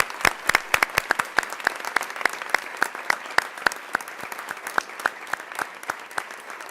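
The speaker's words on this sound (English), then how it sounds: "please give a round of applause to our new MSEP partners" Audience members at a Department of Defense ceremony clap for new partners, sparse and distinct individual claps in an irregular patter, crisp and fairly close, rather than a dense roar.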